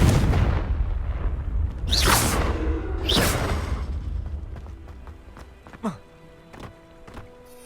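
Two Confringo explosive spell blasts in Hogwarts Legacy whoosh in and burst close together, followed by fainter scattered thuds as the fight noise fades.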